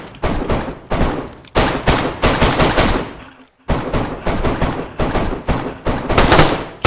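Rapid automatic gunfire in the survival game DayZ, loud close bursts in quick rhythmic volleys, broken by one short silent gap before the shooting resumes.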